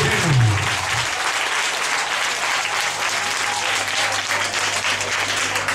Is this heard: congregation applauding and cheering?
yes